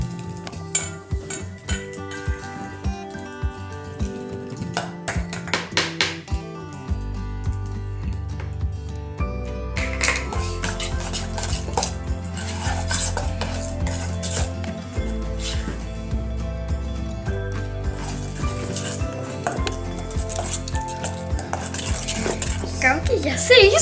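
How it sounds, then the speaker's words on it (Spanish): Elmer's glow-in-the-dark slime mixture stirred in a container, with repeated scraping and tapping of a utensil against the sides and a busy clatter building over the course of the stirring, no clear talk. "Lo vamos a ir echando poco a poco mientras que lo vamos revolviendo."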